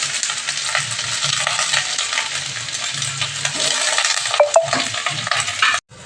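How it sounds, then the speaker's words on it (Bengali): Onions frying in hot, smoking mustard oil in a kadai, giving a steady loud sizzle with occasional stirring scrapes and a couple of sharp metallic clinks near the end, with no talk. "পেঁয়াজগুলোকে হালকা ভেজে নেব।"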